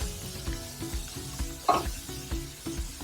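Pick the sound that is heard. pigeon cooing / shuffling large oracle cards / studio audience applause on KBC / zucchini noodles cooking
zucchini noodles cooking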